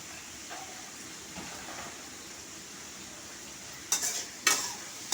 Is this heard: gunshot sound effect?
no